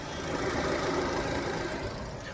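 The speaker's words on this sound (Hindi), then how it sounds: "तो इसका जो इंजन का नॉइज़ है काफ़ी ही कम है और काफ़ी ही अच्छा है" A 2023 Hyundai Creta SX petrol engine idles steadily with an even, low rumbling hum, no voices or other sounds.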